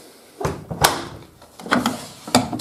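Detergent drawer of a Hotpoint Aquarius WM63 1100 washing machine being opened and shut, several plastic knocks and sliding clunks spread unevenly, close and fairly loud, with no talk.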